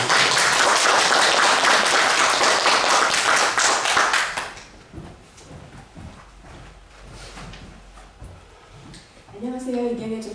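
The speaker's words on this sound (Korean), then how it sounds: "나오실 때 뜨거운 박수로 인사하겠습니다" A church congregation at a Sunday service gives loud, sustained applause to welcome a new evangelist, many hands clapping steadily for several seconds before fading into quiet room noise and a voice beginning to speak.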